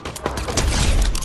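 Pistol fire in a video game crackles as a dense, loud burst of rapid shots and impacts, with a faint voice underneath.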